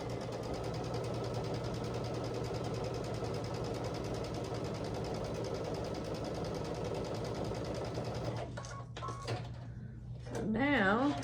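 A sewing machine runs steadily, stitching strips of quilt fabric in a close, continuous mechanical hum before it stops and a person begins speaking.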